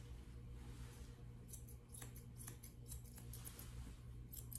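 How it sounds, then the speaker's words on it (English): Grooming scissors snip through a poodle's coat during a lamb trim, a quick run of crisp metallic clicks in a cluster, close and fairly quiet over a low steady room hum. "I'm going to come in at an angle with my scissors"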